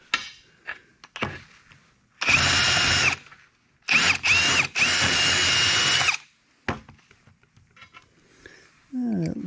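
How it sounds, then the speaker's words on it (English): A handheld power tool grinds and deburrs the freshly cut end of steel stock in a shop, running in two loud bursts of about two seconds each, with quieter clanks and handling between and after. "Let's see if it deburrs the end."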